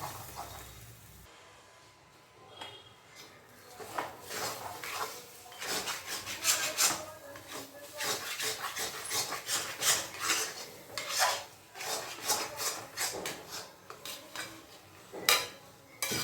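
Sweet pumpkin with a little sugar being stir-fried in a pan for a pumpkin dhoka dalna, a spoon scraping and rasping against the metal in repeated close strokes, no talking.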